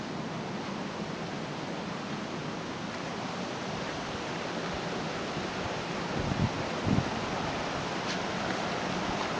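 A river flowing near Bridal Veil Falls at Govetts Leap in the Blue Mountains, a steady broadband rush of water that stays constant throughout, with a couple of brief thumps near the end.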